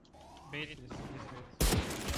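A gun fires in a video game: a sudden loud crash of shots bursts in near the end. Before it comes quieter game audio and a brief voice.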